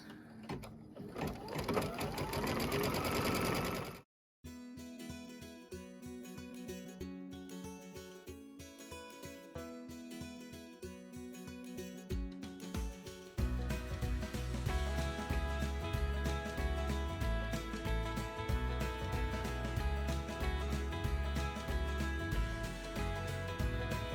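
An embroidery machine stitches a tack-down line on fabric in a hoop, a fast, even mechanical chatter of needle strokes, close and steady, pausing briefly and resuming with a deeper, louder rhythmic thump from the drive.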